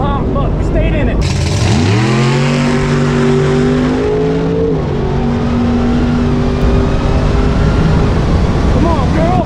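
A Dodge Demon 170 launching down a drag strip with wheel hop, its engine roaring loud and close with a rising rev, then holding a strained drone over heavy rumble and wind.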